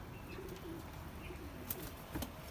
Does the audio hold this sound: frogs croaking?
no